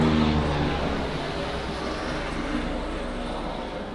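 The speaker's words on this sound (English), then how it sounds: "Oh my god, it's a helicopter." A steady, loud rotor-and-engine drone fills the air from a helicopter passing overhead, fading slightly as it goes.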